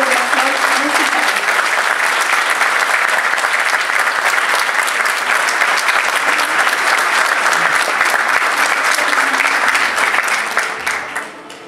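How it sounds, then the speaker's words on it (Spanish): Sustained, warm applause from a seated audience at a university graduation ceremony in Chile honoring new music education teachers, dense steady clapping filling the hall for about ten seconds before tapering off near the end. "Felicitamos con un afectuoso aplauso a los nuevos profesores de educación musical"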